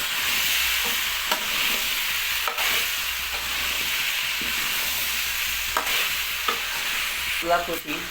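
Mixed vegetables with salt sizzle steadily in a pan, with repeated scraping and stirring strokes cutting through the constant hiss and no voices.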